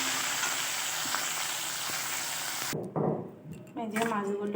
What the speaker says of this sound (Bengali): সবটা একবারে দেইনি, হাফ হাফ করেই দিয়ে ভাজছি।